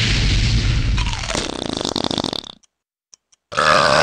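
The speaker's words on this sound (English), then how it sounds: "You can stun your enemies by expelling gas upon them." Shrek expelling stun gas in the Shrek video game, a long, loud, rasping fart that breaks into rapid sputtering pulses, cuts to near silence with a couple of tiny blips, then a burst of game noise returns.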